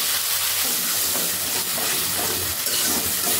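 Spice and cashew paste frying in oil in a pan, a dense close sizzle with hissing steam that holds steady and loud for the whole stretch.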